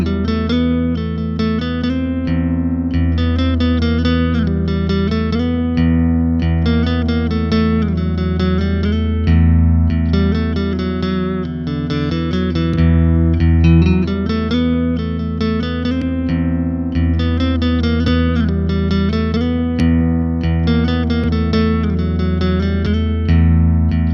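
A clean electric guitar loop replays from a looper pedal, a steady repeating pattern of chords and picked notes, loud and sustained with no talking over it.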